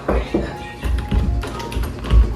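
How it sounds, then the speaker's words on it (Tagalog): Someone knocks on a door indoors with a few sharp raps spread through the moment, loud and near, with voices in the room around them. "Oh, may kumakatok ah."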